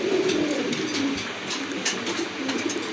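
A fancy pigeon coos in soft, rolling throaty bursts, close up, with a dull background hum and no voices.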